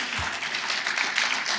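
A conference audience applauds the day's speakers, giving a brief, steady burst of clapping from a crowded room.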